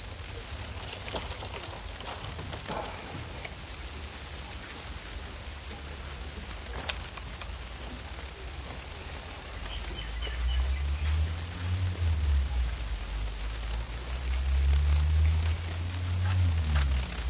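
Crickets in a breeding container, laying eggs into coconut coir, chirp continuously in a steady high trill, close and loud throughout, with low rumbling handling noises near the end.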